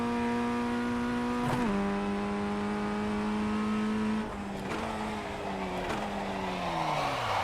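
A Formula 1600 race car engine holds a steady high drone, then dips and wavers as the car spins out, with tire squeal and scrubbing noise rising near the end.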